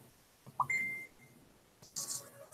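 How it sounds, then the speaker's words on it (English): A computer sounds a few short notification beeps, spaced unevenly and fairly clear, with a brief tone held in the middle and a brighter burst near the end, and no voices. "I'm getting all kinds of notifications."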